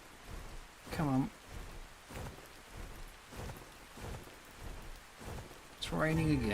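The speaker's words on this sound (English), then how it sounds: "It's raining again." Rain patters steadily in the video game Astraeos, a soft continuous wash beneath occasional game sounds, while someone speaks briefly near the start and again at the end.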